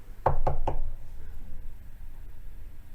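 Three quick, loud knocks on a door ring out close by in an even rhythm, followed by a quiet room.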